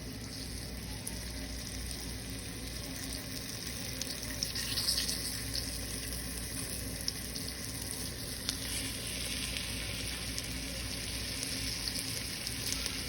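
Flour-dredged short ribs searing in a hot pan, giving a steady, even sizzle and crackle that stays constant and close throughout.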